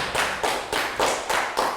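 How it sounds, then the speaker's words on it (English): A small classroom group claps for a student, a few loud, distinct claps in a rough rhythm about a quarter second apart, close and dry with no voices. "Round of applause for Pat."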